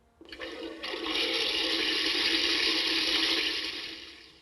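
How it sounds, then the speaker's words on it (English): A device plays a toilet-flushing sound that rushes steadily for several seconds, a broad watery whoosh that swells in and slowly fades, with no voices. "a device which generates the sound of a toilet flushing for 25 seconds"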